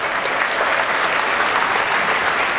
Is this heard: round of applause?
yes